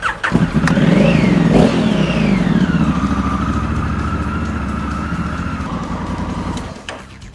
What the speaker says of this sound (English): Start the bike, let it run for 5 minutes,